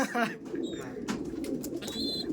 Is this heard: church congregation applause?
no